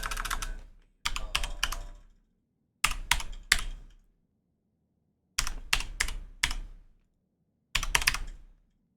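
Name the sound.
typing on a computer keyboard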